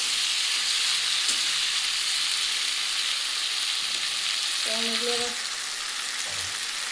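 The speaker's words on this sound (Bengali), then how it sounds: "আমি সিম আর আলুটা দিয়ে দিয়েছি এবার একটু নেড়ে দেবো" Flat beans and potatoes frying in a pan, a steady loud close sizzle throughout, with a few soft stirring knocks and a brief tonal clink partway through.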